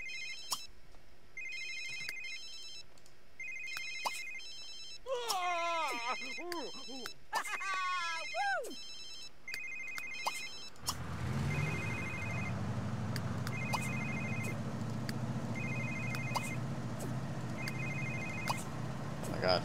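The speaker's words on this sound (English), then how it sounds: "Silence your phones if they're ringing." A mobile phone rings in The Sims 3 life-simulation game, repeating short electronic trill bursts at a steady pace while game sounds chirp and a car engine rumble starts partway through, all fairly quiet.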